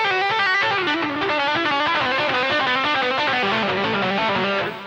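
A distorted electric guitar plays a fast legato lick: rapid, evenly flowing notes with a sustained, saturated tone, loud and close throughout before easing off at the end.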